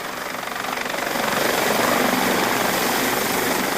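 A helicopter flies on a general-aviation trip across Russia, its rotor chop and engine forming a loud, steady, close roar that builds slightly and then holds.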